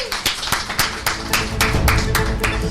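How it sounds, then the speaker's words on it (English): Audience applause at a children's day debate event in Lagos, a short burst of steady, fairly close clapping from a crowd with a few sharper individual claps. "Round of applause."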